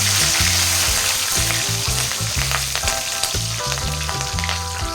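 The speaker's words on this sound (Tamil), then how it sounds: "இப்போ பச்சை மிளகா சேர்த்திக்கலாங்க" Green chilies sizzle and crackle in hot oil for a chicken salna gravy, a loud, close, continuous frying hiss with bubbling pops throughout and no voices.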